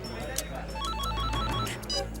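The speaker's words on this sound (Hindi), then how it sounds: "इतनी देर क्यों लगा दी फोन उठाने में?" Telephone ringing indoors during a tense crime-drama scene, a repeated electronic ring pattern heard at steady volume over background music.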